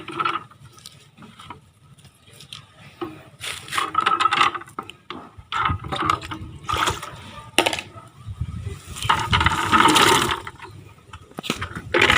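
Water runs and splashes in uneven bursts close by as something is scrubbed and washed, with a voice talking now and then.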